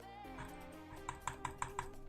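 Several sharp mouse or key clicks on a computer during a live Rise of Kingdoms game session, five evenly spaced taps following a low background hum, close and moderately loud.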